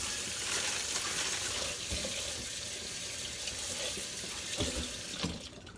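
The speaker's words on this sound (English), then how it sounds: "I'm going to rinse them in a strainer." Jalapenos rinsed in a strainer under a running kitchen tap, a soft, steady splashing water hiss with faint clatter from the peppers.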